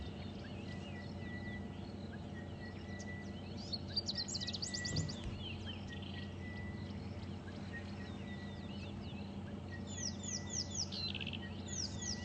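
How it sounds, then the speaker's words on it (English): Bird calls of an orange-breasted bushshrike on a sunrise safari drive, a few bright chirps and whistles around the middle and end, set against a steady low background hum. "That sounds like an orange-breasted bushshrike calling. You can hear it."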